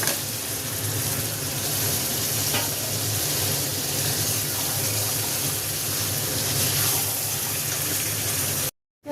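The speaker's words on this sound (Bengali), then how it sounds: "চিকেনটা দিয়ে একটু কষানো হয়ে গেছে" Chicken pieces searing in hot oil with cooked-down spices for a home-style chicken curry, giving a steady loud sizzle with faint stirring scrapes throughout, cutting off abruptly near the end.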